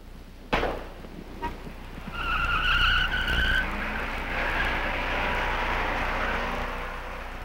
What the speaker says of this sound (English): This time, as a handicap, the Impala makes a 180-degree turn.